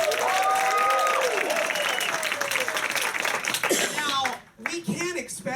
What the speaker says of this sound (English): give it a huge applause